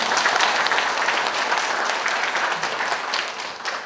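An audience at a founding anniversary ceremony claps together, a dense, loud burst of applause that continues throughout and tapers slightly at the end.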